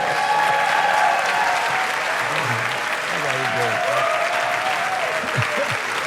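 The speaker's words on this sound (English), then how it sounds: "Let's have another round of applause for this great." Sustained audience applause at a jazz congress keynote session honoring Betty Carter, steady and dense clapping filling the room for several seconds with faint voices underneath.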